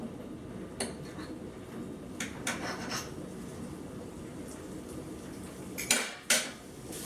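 A knife slices through a stuffed beef tri tip steak on a plate, giving a few soft scrapes and then two sharp, close clinks of metal against the plate near the end, with no talking.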